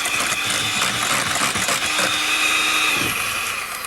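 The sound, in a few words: whisking meringue mixture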